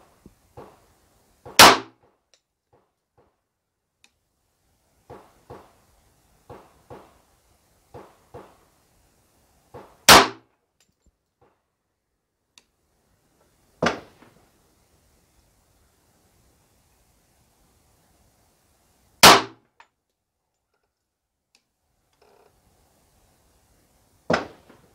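Five sharp, loud .45 ACP pistol shots firing Remington Golden Saber Black Belt 230 grain factory ammo, spaced several seconds apart, with quieter handling clicks and rustles between them and no talking.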